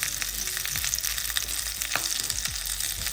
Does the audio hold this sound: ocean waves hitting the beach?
no